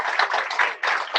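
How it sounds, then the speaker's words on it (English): Meetup audience clapping for the host who supplied tacos, food and drink, a dense burst of close hand claps with a brief dip before the clapping swells again. "So please give a round of applause for them."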